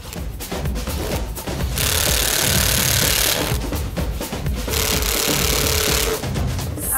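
Screws driven into the wooden legs of a DIY children's coat rack with a power screwdriver: loud, close whirring bursts that run in two long stretches with brief pauses between them.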